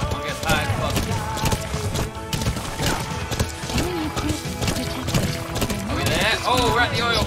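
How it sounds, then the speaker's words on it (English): Hooves beat in a steady clip-clop as a horse gallops in Metal Gear Solid V: The Phantom Pain, with occasional whinnies, game music and someone talking over the rhythm throughout. "Slow down, horsey. Slow down."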